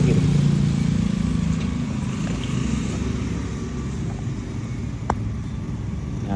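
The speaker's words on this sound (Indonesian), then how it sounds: "Dengar suara motor lewat nggak?" A motorcycle passes along a street, heard through a small handheld microphone. A steady low traffic rumble is strongest at first and slowly fades, with a single sharp click near the end.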